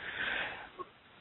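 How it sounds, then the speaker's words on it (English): A single short nasal sniffle from someone with a cold, faint and close, a breathy inhale followed by a small snort. "forgive me the sniffles every now and then"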